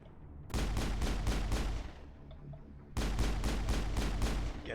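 Rapid automatic gunfire in the video game Mass Effect comes in two loud sustained bursts of evenly spaced shots, separated by a short lull with a low rumble, and no voices.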